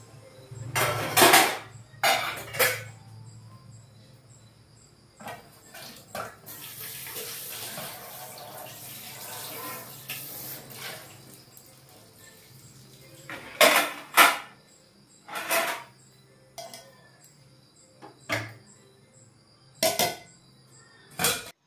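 Kitchen dishes being washed under a running tap in the evening, with water streaming steadily in the middle and sharp clinks and knocks of pots and plates scattered before and after, close by and without talk.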